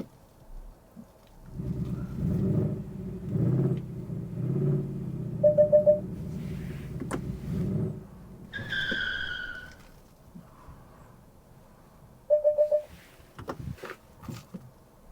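A Lincoln Nautilus creeps through a parking lot under park assist, giving a low rumbling engine and tire sound, occasional short tire squeaks and a few brief electronic chimes, with no one talking.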